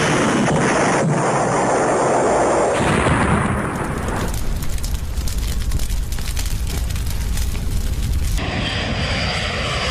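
A roaring aircraft engine of an Air India plane taking off gives way to a heavy, rumbling crash explosion that crackles and thunders for several seconds before cutting off.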